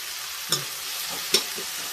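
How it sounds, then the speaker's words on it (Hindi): Onions and tomatoes frying in a pan: a steady close sizzle throughout, broken by two brief clinks of a spoon stirring against the pan. "ये टमाटर को भून लेते हैं।"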